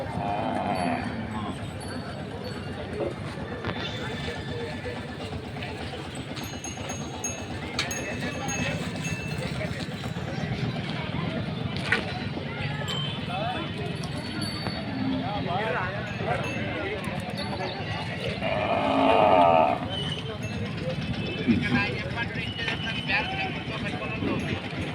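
Bulls arrive at a busy rural livestock market, with scattered low moos, hoof clatter and a steady crowd murmur, and one louder bellowing call near the end while people talk throughout.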